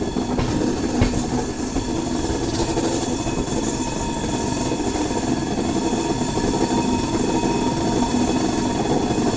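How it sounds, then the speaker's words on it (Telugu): Wheels of an express train with LHB coaches clatter over the rails beneath a constant rolling rumble, close and fairly loud, with a few sharper knocks. "ఒకసారి ట్రాక్ సౌండ్ చూడండి ఎలా వస్తుంది."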